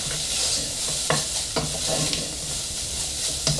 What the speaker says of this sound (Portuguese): A carne já está bem refogadinha, estou até fazendo um fundo aqui na panela